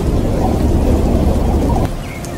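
Thunderstorm at sea in an animated Bible story: dense roaring rain and rumbling thunder fill the clip loudly, easing slightly toward the end, with no talk.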